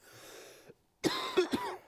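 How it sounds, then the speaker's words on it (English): A person coughs several times in quick, harsh bursts after a brief pause, close and fairly loud, with some throat clearing. "I'm just coughing up a storm right here"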